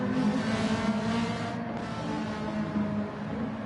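Race cars in a racing video game, a continuous loud engine drone with steady droning harmonics as cars run through the field, sustained without pause and no voices.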